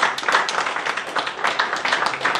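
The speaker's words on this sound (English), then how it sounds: "Give them a big round of applause." Close, crisp clapping from an audience at a financial seminar, a brisk round of hand claps with an uneven pulsing rhythm throughout the short burst.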